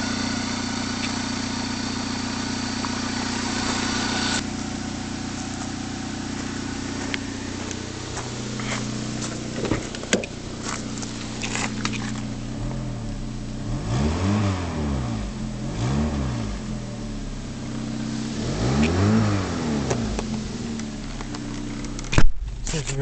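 A 2005 Chevrolet Optra engine idles and then revs repeatedly, each rev climbing and falling back, with a few sharp clicks and knocks near the end.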